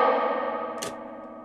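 A spring reverb effect applied to a vocal sample in an Arturia FX Collection plugin, giving a dense washy tail that slowly decays, with a brief bright splash partway through.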